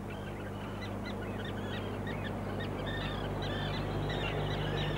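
Swans grazing on grassy banks in the Roslagen archipelago give scattered honking calls, some overlapping, over a steady background rush of wind or water.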